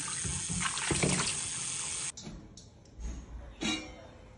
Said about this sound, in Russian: по полчаса я буду тщательно промывать и по полчаса держать в воде